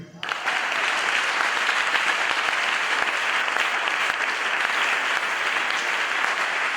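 A church congregation bursts into loud, sustained applause at a dedication service, starting abruptly and holding steady as a dense wash of clapping.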